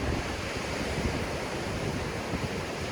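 Ocean surf washing steadily onto the beach at Hug Point, a continuous broadband roar of breaking waves with no voices, close and fairly loud throughout.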